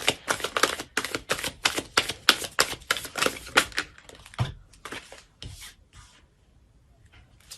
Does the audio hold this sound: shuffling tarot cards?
yes